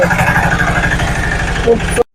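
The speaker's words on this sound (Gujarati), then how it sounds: "સાઉન્ડ એન્જિનિયરિંગના વર્કરે સનેડો ચલાવીને બતાવ્યો" A 2024 Sanedo mini tractor from Chital runs its engine close by, with a loud, steady chugging idle that stops abruptly at the end.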